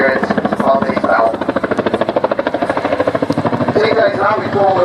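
Chinook twin-rotor helicopter in a role demonstration display at the Duxford summer airshow, its rapid rhythmic rotor thumping loud and continuous, with voices talking over it throughout.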